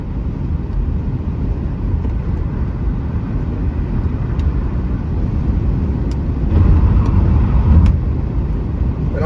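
A car cruising along an interstate highway between Youngstown and Cleveland, with a steady loud road and engine rumble throughout that swells briefly near the end, and a few faint clicks over the drone.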